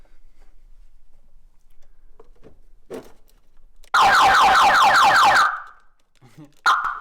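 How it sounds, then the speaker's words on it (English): A factory car alarm on a Subaru GC8 goes off when the battery is reconnected: a few faint clicks, then a loud, rapidly warbling electronic tone for about a second and a half, followed by a short chirp. "every time you reconnect the battery, the alarm goes off"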